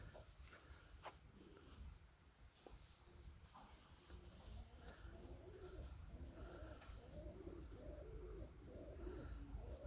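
Young pigeons coo softly inside a pigeon loft, low murmuring calls scattered through a constant rustly background, faint and close, with occasional sharper chirps and knocks.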